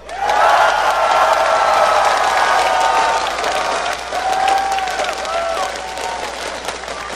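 Esports arena crowd at a Team Solo Mid versus Azubu Frost quarterfinal match, cheering and applauding loudly in a sustained roar that swells and eases, with whistles and shouts rising through it.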